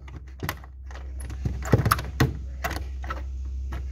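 An old Mercedes typewriter clacks as its keys are pressed, a string of irregular sharp taps and mechanical clunks over a steady low hum.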